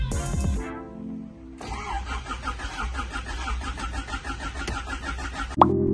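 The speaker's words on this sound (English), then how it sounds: "Crank the engine to create oil pressure." A rebuilt engine in a 1988 Honda Prelude cranks over on the starter with a steady mechanical churning for several seconds, after a short burst of other noise, then stops abruptly with a clunk.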